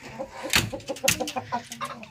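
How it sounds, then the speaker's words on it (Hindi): A broody aseel hen clucks noisily and agitatedly, rapid squawking bursts with a couple of louder shrieks, close by. "वो हमारी कुड़क मुर्गी शोर मचाती है देख के हमें"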